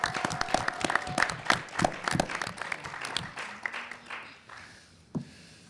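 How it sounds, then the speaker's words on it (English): Applause from a school quiz show audience, a scattering of sharp claps that thins out and fades toward the end, with one last louder clap. "Applause."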